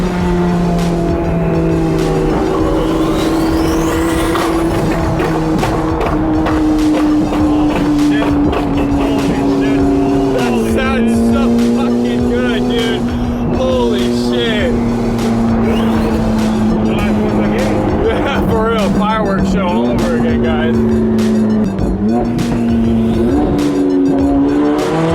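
A Ferrari 458 GT3 race car roars steadily up close for the whole stretch, its engine note rising and dropping through gear changes while occupants talk over it.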